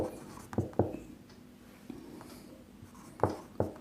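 Chalk or marker scratching and tapping on a classroom board during a Class 10 maths lesson, several short close strokes in quick bursts separated by quiet pauses, no talking.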